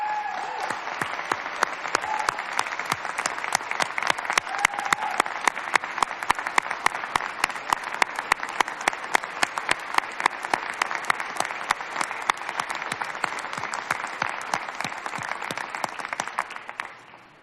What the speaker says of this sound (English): Members, let's give them a round of applause.